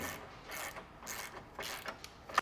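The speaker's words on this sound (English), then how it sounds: "we can change out for a 17mm socket and snug these ones down" Ratchet wrench fitted with a 17mm socket snugging base plate bolts on a 2018 Jeep Cherokee, giving several short bursts of close clicking separated by brief pauses.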